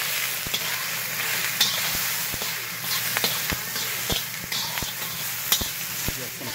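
Fish scraps and shrimp shells sizzle steadily in a pot as seafood stew stock starts, with sharp scraping clicks of a utensil stirring them at irregular intervals, close and fairly loud.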